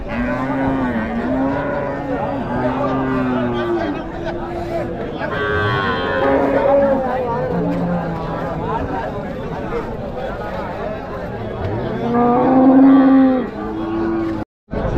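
Cattle low and moo repeatedly at a weekly livestock market, where medium-sized HF (Holstein Friesian) heifers are brought for sale. The calls are loud and close, overlapping one another amid crowd noise and talking.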